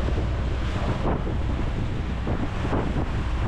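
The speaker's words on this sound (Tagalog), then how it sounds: "Ganda ng alon na." Ocean waves, a steady broadband wash of surf with wind buffeting the microphone, continuous and fairly loud with no talk.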